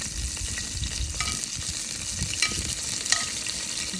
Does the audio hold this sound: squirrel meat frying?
yes